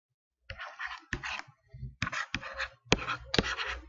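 Close, scratchy strokes of a pen on paper in several short bursts separated by brief pauses, with no other sound.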